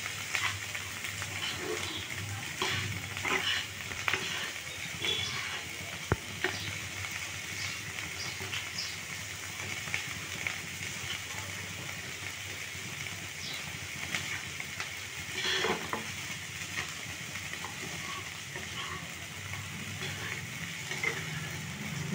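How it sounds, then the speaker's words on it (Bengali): Rice frying in oil in a pan for potol ghonto, a steady close sizzle with scattered crackles and scraping stirs throughout, no voice. "চালটা এরকম করে ভালো করে ভেজে নেবেন তেলে"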